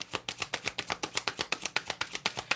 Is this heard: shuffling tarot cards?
yes